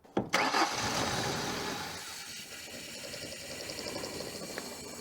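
Truck engine cranking and catching, then settling into a rough, low idle with a faint steady rumble that fades a little as it runs; no voices over it.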